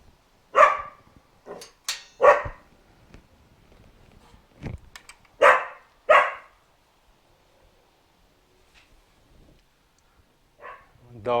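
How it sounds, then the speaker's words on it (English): Dogs barking because they want to play: a series of sharp, separate barks and yips in irregular bursts, fairly close, with quiet gaps between them. "Dogs wanting to play."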